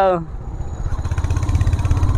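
A Royal Enfield motorcycle engine idles with a steady, thumping low rumble that gradually grows louder and more pulsing, close by, after a brief tonal sound at the start.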